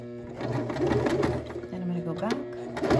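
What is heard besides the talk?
sewing machine sewing a short seam back and forth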